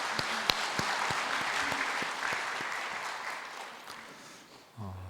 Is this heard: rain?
no